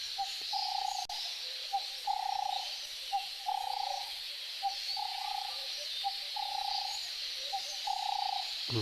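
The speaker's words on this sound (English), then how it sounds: "This is just the phenomenon of the quilias flocking" Quelea birds flocking in a mass congregation at a waterhole give repeated short chattering bursts roughly every second, steady and rhythmic over a constant high whirring wash of many distant birds.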